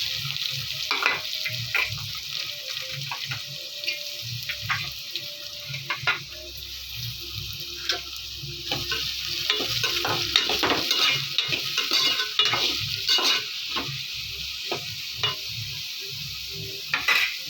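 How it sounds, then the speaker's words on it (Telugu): Onions, green chilies and curry leaves frying in hot oil for an egg curry, giving a steady close sizzle broken by frequent scraping stir strokes and clinks of a utensil against the pan throughout. "నూనె మరిగిపోయిందండి ఉల్లిపాయలు పచ్చిమిర్చి కరివేపాకు వేసేసుకుందాం"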